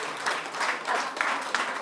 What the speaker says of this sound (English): Let's clap for the place.